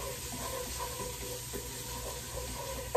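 Chopped onions sauteing in a pan for a Caribbean beef stew give off a steady, close sizzle with faint stirring scrapes, continuous and fairly quiet with no talk.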